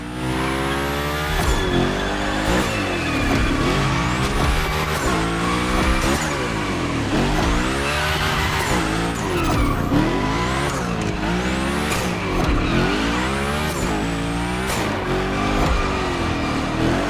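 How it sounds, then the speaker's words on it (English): A car sliding through gymkhana training in The Crew Motorfest, engine revving up and down in repeated sweeps with tire squeal through big slides, loud and continuous. "We're focusing on Gymkhana essentials, big slides and precision."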